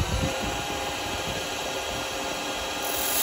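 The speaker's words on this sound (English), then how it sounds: "I'm going to go in just a little bit with the parting tool on those" A parting tool cutting into wood on a woodturning lathe, a steady continuous scraping hiss with the lathe running throughout.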